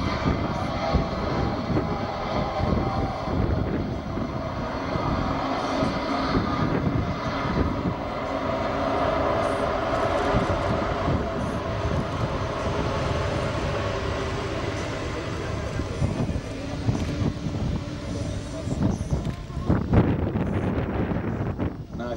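Airbus A380 taking off at the ILA 2010 air show in Berlin, a loud continuous roar of jet engines with heavy rumble and wind buffeting that stays powerful throughout.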